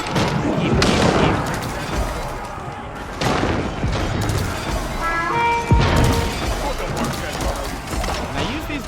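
Bombard cannons firing in Age of Empires IV during a ranked match, repeated heavy blasts and crashes over busy battle noise, with talk over it.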